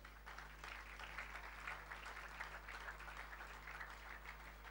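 Sustained applause from a church congregation during a Sunday service, a steady, dense wash of many hands clapping at moderate distance with no voices over it.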